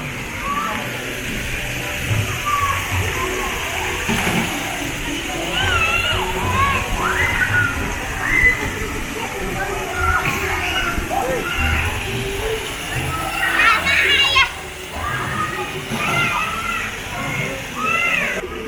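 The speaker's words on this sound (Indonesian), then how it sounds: "ini adalah kolam renang untuk anak-anak ya" Water splashing in a children's swimming pool at the Selecta recreation park, an outdoor scene with steady sloshing, distant children's voices and people talking over it.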